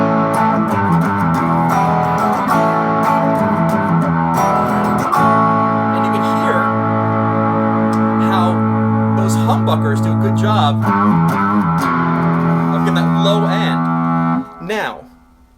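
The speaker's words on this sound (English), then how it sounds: "When you add distortion, I believe the proper, you know, distortion pedal you have to have is a tube screamer" Electric hollow-body guitar through a Tube Screamer distortion pedal, playing sustained overdriven chords and notes that ring loudly and steadily before cutting off near the end.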